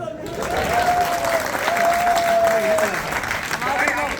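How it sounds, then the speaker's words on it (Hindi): A stand-up comedy show audience breaks into loud, dense applause that holds steady for about four seconds, with some voices and whistles mixed into the clapping. "तालियां"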